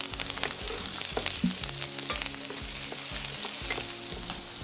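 Shallots frying in oil with whole spices such as cinnamon and curry leaves for a country chicken salna gravy, a steady near crackling sizzle with bursts of stirring throughout, no speech.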